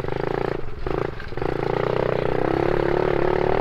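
A mini motorcycle engine revs and accelerates close by, its pitch climbing steadily after a couple of brief dips, loud and continuous with no voices.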